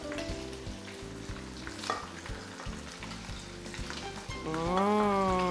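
Pasta tossed into a hot frying pan sizzles loudly and steadily, with rhythmic scraping and stirring knocks throughout and a rising, bubbling hiss toward the end.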